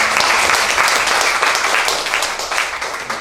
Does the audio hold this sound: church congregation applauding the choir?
yes